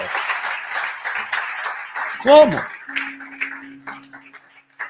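A church congregation claps for Jesus in a dense, rustling wash of applause that thins out over several seconds, with voices and a shout rising briefly through it.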